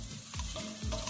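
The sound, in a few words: stirring frying mushrooms with onion, garlic and thyme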